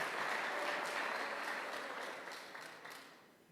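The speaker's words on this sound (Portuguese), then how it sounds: "aplauda o Senhor, aplauda" A church congregation applauds in a warm, dense burst of clapping that starts strong and gradually fades toward the end.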